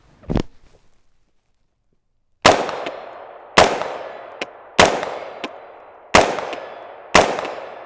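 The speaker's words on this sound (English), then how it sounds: "Now I've been shooting at primarily that green target down there" Inter Ordnance AR-15 carbine fired at targets outdoors, one loud crack followed by a pause and then five evenly spaced shots, each with a ringing decay and faint echoing metallic pings between.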